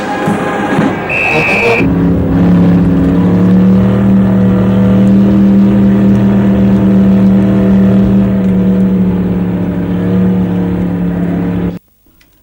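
Inside a precision driving team car as it performs formation manoeuvres, a loud steady engine drone holds a constant pitch for about ten seconds after a brief higher whine, then cuts off abruptly.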